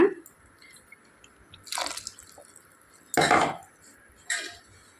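Buttermilk poured into a pot of beetroot rasam, a few short splashing pours with metallic pot clinks between them, close and fairly quiet.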